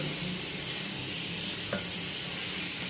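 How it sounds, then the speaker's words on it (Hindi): Two large sliced onions fry in a cup of oil in a kadai, giving a steady, close, continuous sizzle with no voices over it. "उसके अंदर हमने 1 कप ऑयल ऐड किया है और यहाँ हमारे पास 2 बड़े प्याज स्लाइसिस में कटे हुए ऐड करेंगे"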